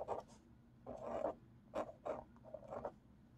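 Slow pen strokes scratch across paper in short bursts, close and faint, with quiet pauses between each stroke.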